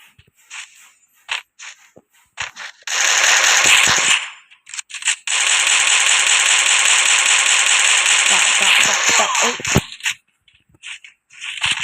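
Rapid bursts of automatic gunfire while jumping in the Free Fire video game, loud and sustained in two long volleys with short shots between them, and excited voices shouting over the firing.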